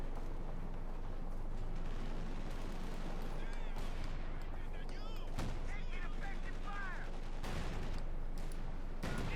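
Tank guns and small arms fire in the World War II strategy game Company of Heroes 2, dense battle noise of repeated booms and bursts under continuous commentary talk.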